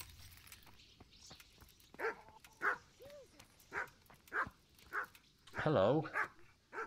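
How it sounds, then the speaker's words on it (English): Dogs in the medieval role-playing game Kingdom Come: Deliverance bark in a string of sharp, evenly spaced woofs, building to a louder flurry near the end, while someone speaks a brief greeting. "Damn dogs."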